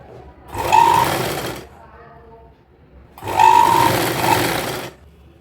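Sewing machine stitching a coat collar in two loud bursts of rapid whirring stitches, separated by a short quiet pause, heard up close with no talking.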